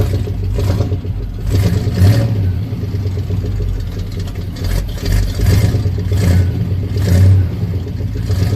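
A 1986 Chevy pickup's engine, just started cold, runs roughly nearby with uneven low rumbling and repeated short swells of revving over a lumpy idle.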